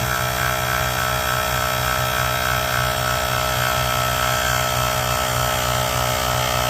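The electric motor of a Shocker HD trailer hitch runs steadily as it raises the assembly, a loud continuous mechanical drone with a rhythmic low pulsing and no talking.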